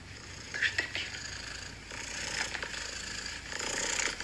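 A domestic cat purrs softly and steadily, a low continuous rumble at close range with faint background noise.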